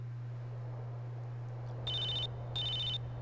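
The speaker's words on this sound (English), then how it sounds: "Phone call? Telefono?" Phone ringing in the video game GTA San Andreas, two short electronic rings a beat apart over a steady low hum, no speech.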